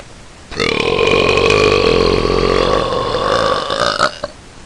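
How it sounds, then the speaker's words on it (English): One long, loud, sustained burp from a girl, rising abruptly and holding for about three and a half seconds before tapering off, heard alone with no talk over it. "Continuing on with the burping."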